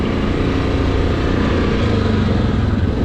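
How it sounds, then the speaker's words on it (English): A brand-new Yamaha Kodiak ATV engine runs with a low, deep, steady rumble, loud and close throughout with no break and no voices over it. "Oh, that low, deep low rev."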